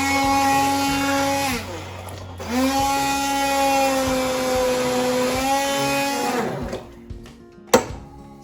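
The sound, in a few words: blender whizzing pea and mint soup smooth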